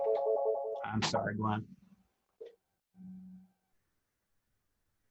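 A mobile phone rings briefly in a room, a short tonal electronic melody at the start that overlaps with a person apologizing, followed by a couple of faint beeps and then quiet.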